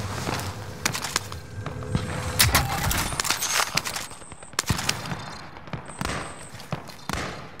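Gunfire in the Call of Duty: Modern Warfare battle royale, scattered sharp shots and short bursts at varying distances amid busy game noise, with players talking over it.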